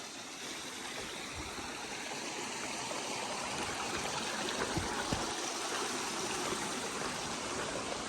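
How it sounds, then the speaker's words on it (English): A stream swollen after heavy overnight rain flows steadily nearby along the Appalachian Trail, a constant rushing and gurgling of water with no voices. "Water sure is flowing good today."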